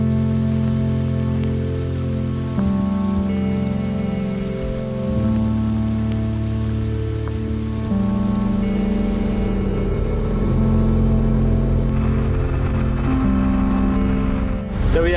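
Steady rain patters outdoors around a reservoir in Wales, a dense continuous hiss of drops on surfaces heard close, with a low tonal drone running underneath throughout.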